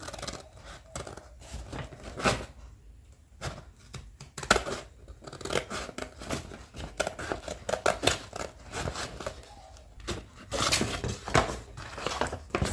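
Scissors snipping through a thin plastic shop bag, a close series of quick irregular cuts and crinkles with short pauses between them.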